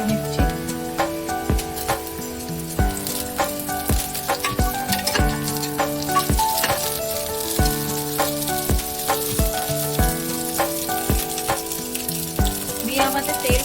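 Chopped chillies are added to a little oil with browned onions and sizzle with a steady, crackling fry and sharp spatters, alongside a sustained tonal background.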